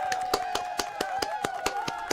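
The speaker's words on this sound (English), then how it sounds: "I think that deserves a round of applause" A round of applause on a live synth-music show: about ten crisp, evenly spaced hand claps, moderately close, over a faint held tone in the background.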